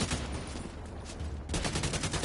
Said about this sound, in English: Jeez, there's a lot of explosions over there